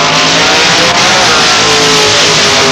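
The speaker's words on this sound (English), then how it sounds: "Doug Harris, the Chandler chassis rear engine dragster." A Chandler chassis rear-engine dragster in Pro Comp drag racing at London Motorsports Park in 1992 roars at full power down the track, a loud, continuous, close engine scream with no break.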